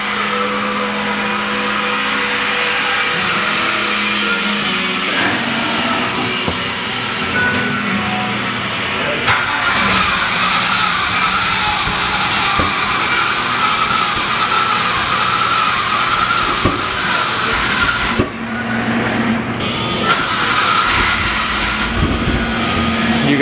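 A race truck engine started for the first time in a long while and running on Ignite E98 race fuel, a loud continuous rumbling idle with occasional revs, close and steady throughout.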